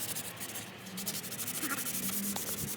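Steady, continuous rubbing of sandpaper over a wooden garage door, scouring off layers of old peeling paint, with a close, even scratching texture and no voices.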